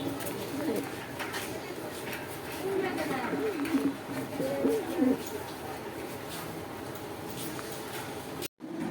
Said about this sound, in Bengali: সেখানে দেখতে পাচ্ছেন এক পেয়ার রেসার কবুতর আছে